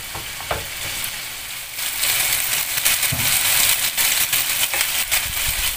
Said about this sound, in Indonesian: Kita panggang pelan-pelan pakai minyak dikit aja, terus apinya kecil ya biar nggak gosong tapi dalamnya mentah.